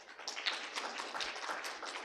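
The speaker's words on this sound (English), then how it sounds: "Can we have a big round of applause for our panelists?" A conference audience claps for a panel in dense, continuous applause, moderately loud and sustained throughout.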